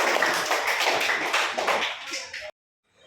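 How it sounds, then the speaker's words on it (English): Children in an English classroom clap hands in a dense, rapid patter for a couple of seconds before it cuts off abruptly into silence. "clap, clap, clap."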